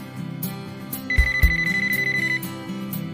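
A VTech CS6649 cordless phone handset rings with a steady electronic trill of rapid pulses lasting just over a second, sitting over a soft musical backing.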